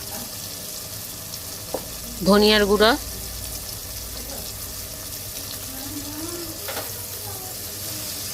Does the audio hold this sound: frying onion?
yes